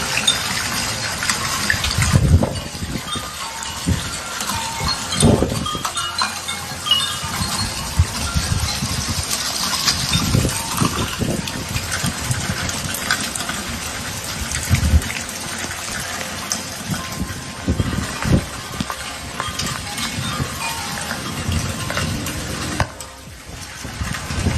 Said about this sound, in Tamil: இப்ப மழை நீர், இப்ப மழை பெய்யுது